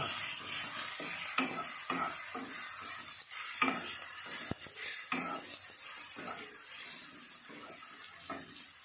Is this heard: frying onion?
yes